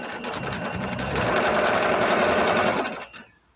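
A sewing machine stitching close and loud, a fast steady mechanical whir that builds briefly, runs evenly for a few seconds, then stops with a small clunk.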